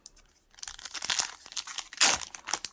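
Foil wrapper of a Pokémon booster pack crinkling and tearing as it is opened, with a quiet start, then close, bursty crackles and a loud crunch near the end, no voice.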